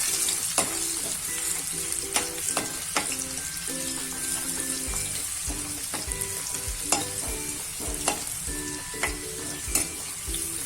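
A large batch of garlic fries and sizzles in a pan for methi dana nu shaak, with steady crackling and repeated scraping and clinking as it is stirred, no talking over it.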